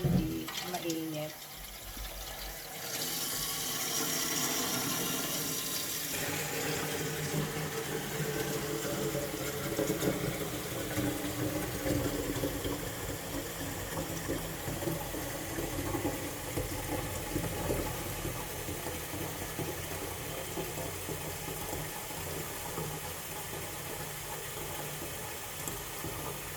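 Water runs into a humidifier's tank, making a steady close pouring and filling rush under ongoing talk.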